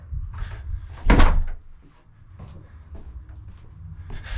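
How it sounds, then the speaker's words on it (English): A single door bumps open or shut inside a newly built house, one sharp close knock amid quiet room tone and faint footsteps. "Did I open this door?"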